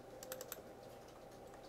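Students type on computer keyboards in a lecture classroom, a quiet scatter of faint clicks and a few sharper keystrokes in the first half second over steady room hum.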